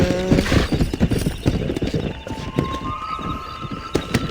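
Horse hooves clip-clop at a steady gallop during riding in Red Dead Redemption 2, loud and close, with a brief whinny early and game ambience underneath.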